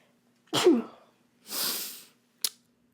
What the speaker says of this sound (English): I had to sneeze one more time.